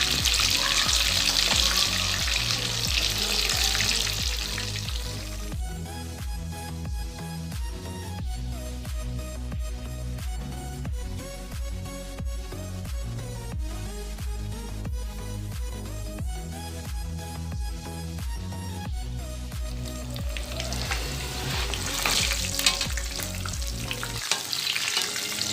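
Chicken pieces roasting in oil sizzle loudly and continuously, most clearly at the start and end, while background music plays through the middle stretch.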